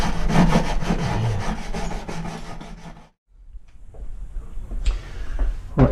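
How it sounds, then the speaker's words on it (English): An abrasive tool scrubs hard across a wood surface in quick, rhythmic rasping strokes, pauses briefly, then resumes more loosely and unevenly, all close and fairly loud. "really give it a good old scrub with that"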